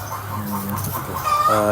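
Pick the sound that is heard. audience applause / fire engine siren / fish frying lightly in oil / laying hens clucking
laying hens clucking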